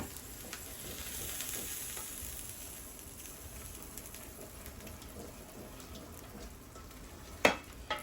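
Beans cooking in a hot pan for a copycat Mexican pizza, giving a soft, steady sizzle with faint stirring scrapes and a couple of sharp utensil knocks near the end, no talk.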